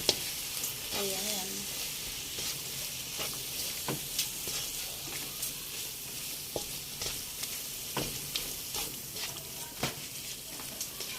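Chicken cubes sauté in butter for chicken biryani, giving a steady, close hiss of sizzling with occasional clinks and scrapes of stirring throughout.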